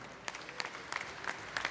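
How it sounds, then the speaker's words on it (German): Scattered applause from a boxing crowd after a cruiserweight fight, sparse and fairly faint, with a few distinct claps standing out over a thin wash of hands. "nochmal einen großen Applaus für beide Fighter"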